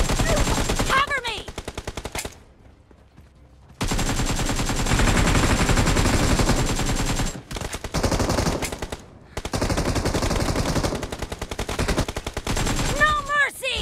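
Rapid automatic gunfire in a team deathmatch video game, with loud, dense bursts and sustained volleys broken by short lulls, plus occasional game effects and voices.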